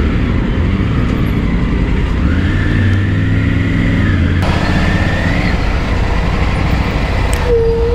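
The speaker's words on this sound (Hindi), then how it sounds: "बहुत सारी ट्रैफिक है" Road traffic passing around a Triumph Tiger 850 Sport motorcycle in motion, with a steady loud rumble of cars, trucks and buses, a rising engine drone in the middle and a brief horn-like tone near the end.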